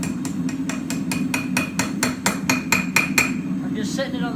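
Hammer blows ring out on knife steel set against the back of an anvil as it is curled open, about a dozen sharp metallic strikes in a steady rhythm, close and loud, before a brief softer scrape.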